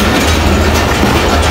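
A local train runs along the tracks in Pakistan with a loud, continuous rumble and rattling wheel clatter, heard from on board and without talk.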